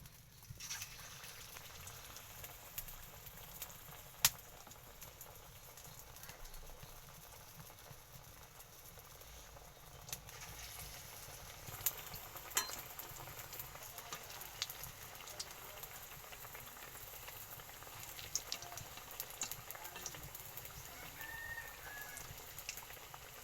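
Mustard flower fritters frying in hot oil make a faint, continuous crackle and spatter, with occasional small pops over a steady low hiss.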